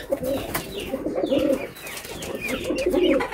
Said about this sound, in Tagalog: May mga kalapati rin siya dito.